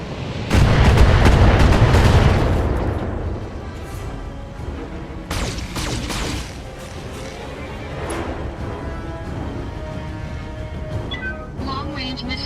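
Heavy mech weapons fire in the Battletech video game opens with a loud, booming volley, then settles into a rumbling barrage of scattered impacts and launches that continues at a lower level through the rest.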